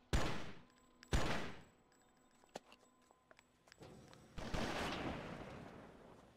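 Gunfire in a firefight in the Oni video game: two loud, heavy blasts in quick succession, then scattered small clicks and knocks, followed by a longer rushing burst that trails off.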